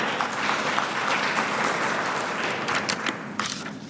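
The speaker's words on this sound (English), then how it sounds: "Can we give him another round of applause?" Audience applause at a fintech conference plenary session, a steady, dense round of clapping filling the hall for the full stretch without voices.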